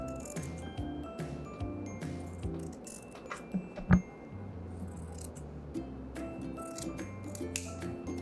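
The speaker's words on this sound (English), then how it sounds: "let's grab some scissors and chop off that neckline" Quiet, steady snipping of scissors cutting through the neckline of a vintage dress, with one sharper click partway through.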